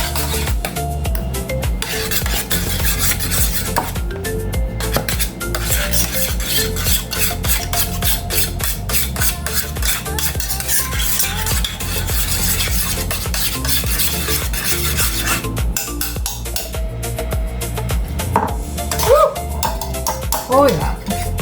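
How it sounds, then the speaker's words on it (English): Meatloaf mixture with a bit of mustard being mixed by hand in a bowl: continuous squishy, rasping stirring and rubbing for a long stretch, steady and close, without pauses. "Alright, so I'm gonna mix all that up."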